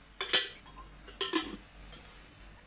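Pan being set on a stove for cooking, a few close metallic clinks and clatters of cookware, fairly quiet with no talk.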